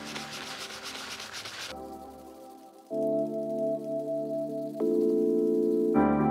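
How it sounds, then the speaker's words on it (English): Scrubbing oil into the sleeve of a barbell with an up-and-down motion, a close, continuous rubbing and scratching sound whose tone and loudness shift between several distinct passages. "same process of scrubbing it up and down in an up and down motion, getting in between those crevices"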